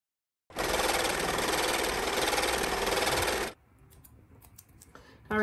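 An embroidery sewing machine stitching a pot holder in the hoop runs with a steady fast whirring buzz for about three seconds, then stops, leaving faint handling noises behind.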